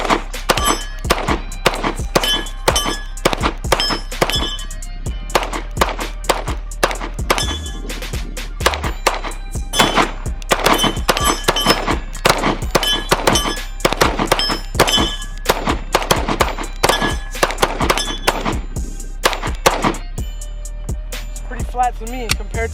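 A .45 pistol fitted with a Radian Ramjet compensator fires many sharp, loud shots in irregular bursts and quick strings, with short pauses between groups and no talking.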